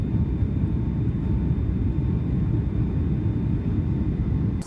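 Steady, droning engine roar fills the cabin of a small commuter plane, a constant low hum with a faint high whine above it and no speech.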